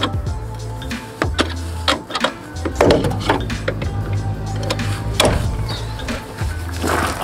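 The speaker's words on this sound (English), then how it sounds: "It's this silver bolt here, so I'm just going to tighten that up and get it in." A silver bolt being tightened inside a camper van, with loud close clunks, scraping and knocking of tool and metal over a continuous rumbling background.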